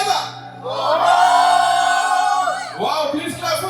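An event audience sings together loudly on cue, a sustained crowd chorus that swells, holds for about two seconds, then breaks into scattered shouts and cheers.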